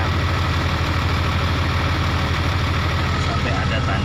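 A Case 2050M bulldozer's engine idles with a steady, loud, low diesel rumble, close by and unchanging throughout, while someone talks over it.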